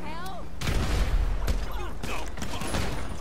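Gunfire from another player in Grand Theft Auto V Online: several sharp shots and bursts in quick succession over game sounds, fairly close, with a voice talking in between.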